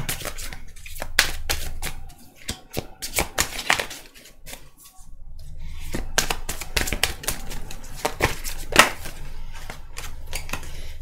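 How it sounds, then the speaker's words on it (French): Tarot cards are drawn and laid out on a table. Crisp, rapid snaps and slaps of card stock come in irregular bursts, with a soft rustle underneath and a brief lull midway. "On va venir tirer toutes les cartes"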